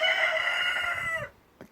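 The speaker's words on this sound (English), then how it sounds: "Cockerel." A cockerel crows once on an allotment, loud and close, a long drawn-out call that cuts off sharply and leaves a brief faint sound after it.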